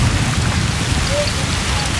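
Heavy rain falls steadily and loudly, a dense unbroken hiss of drops striking surfaces close by, with a low rumbling underlayer and no voices.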